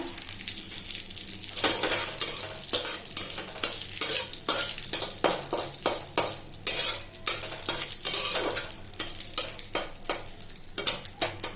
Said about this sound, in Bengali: লঙ্কা ফোড়ন দেবো, সর্ষে ফোড়ন দেবো, লাল করে ভাজবো লাল লঙ্কাটা